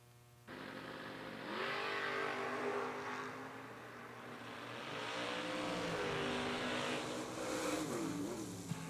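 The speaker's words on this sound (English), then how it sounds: "Heads up drag racing with David Marchini" A Camaro and an S10 pickup launch side by side in heads-up drag racing, engines roaring loud and close, revving up through rising gear pulls over a steady rumbling idle before the run.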